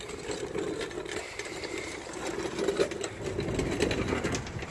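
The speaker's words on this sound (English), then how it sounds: "And there's my compressor" A factory on-board air compressor on a 2016 Ram 3500 runs with a fast, buzzy mechanical chatter, a steady close whir that keeps going without a break.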